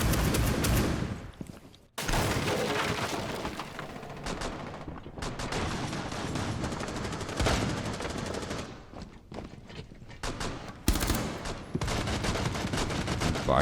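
Rapid pistol fire in a first-person shooter game, loud bursts of shots packed closely together with brief gaps between volleys.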